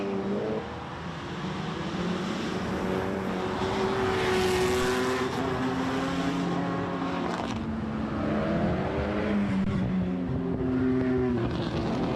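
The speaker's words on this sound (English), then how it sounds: "And that's followed by Percat in a very loud 911" A loud Porsche 911 rally car screams along a closed stage road in the Adelaide Hills, its engine note climbing and dropping through gear changes as it passes close by, with no voices over it.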